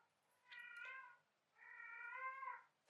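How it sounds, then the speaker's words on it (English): A pet cat named Millie gives two drawn-out, wavering meows close by, separated by a short pause, with a brief sharp click at the end and no talk. "That's my cat."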